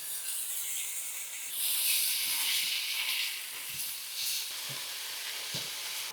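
Lean ground beef and diced onion fry in a pan with a steady, close hiss that swells louder partway through, broken by a few soft scraping stirs.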